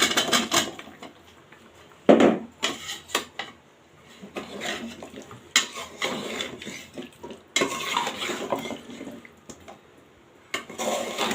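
Pieces of sweet gourd tipped into a pot and stirred, a run of clattering metal utensil scrapes and knocks against the pot in uneven bursts, with quieter simmering gaps between, close up and without talk.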